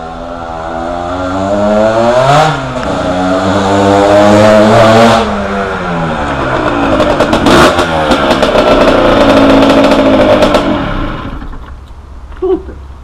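Husqvarna 125 motorcycle, battered and long unable to start, firing up and revving: a loud, raspy two-stroke-style engine climbs and drops through repeated throttle blips, close by, then cuts off.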